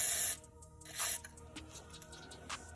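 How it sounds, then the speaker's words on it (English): Short hissing bursts from a WD-40 aerosol can sprayed onto a rusty bolt: one at the start, another about a second later, and a brief final puff near the end. "we're going to spray a little bit of WD-40 on here"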